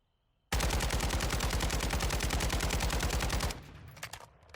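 A long-range scoped gun in Warzone 2.0 fires a steady rapid automatic burst for about three seconds, loud and close, then cuts off into quieter trailing noise.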